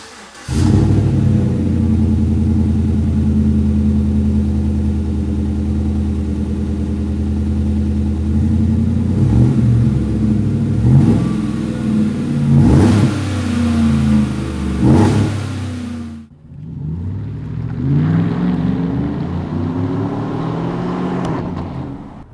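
2014 GMC Sierra pickup with a Borla S-Type cat-back exhaust and dual polished tips, a deep, loud rumble near the tailpipes, revved in several blips, briefly cut off, then rumbling and revving again.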